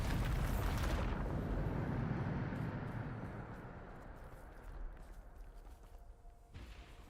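Bombarda spell blast in Hogwarts Legacy, a loud booming explosion at the start that rolls into a long rumbling decay with scattered debris crackle, no talking.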